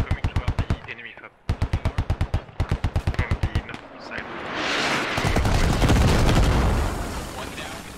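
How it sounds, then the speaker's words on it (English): Rapid bursts of automatic gunfire in a military simulation video game give way to a heavy rumbling roar of incoming mortar fire that swells and lingers, loud and close. "Mortars coming in."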